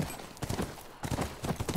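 In The Last of Us, a horse's hooves clip-clop in a steady, uneven rhythm over a soft ambient bed, fairly close and moderately loud.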